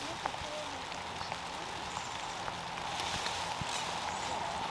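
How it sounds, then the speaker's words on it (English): Steady rain falls across a quarter-acre homestead garden during a strawberry harvest, a dense even patter with scattered nearby drips and no break across the stretch. "It's really raining."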